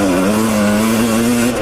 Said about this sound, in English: Hope to God that y'all can actually hear me over the bike and the little bit of wind noise.